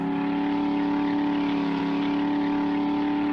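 Constant droning vehicle engine in 7 Days to Die, holding a steady high-revving strain as it drives slowly, with no speech.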